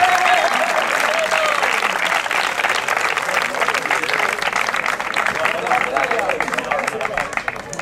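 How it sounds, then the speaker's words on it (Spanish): Crowd applauding a triathlon prize winner at a 2015 promotional triathlon in Hinojosa: loud, sustained clapping with crowd babble and voices mixed in throughout. "Un fuerte aplauso para él."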